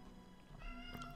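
A house cat gives a single short meow, faint and close, rising briefly over a quiet background.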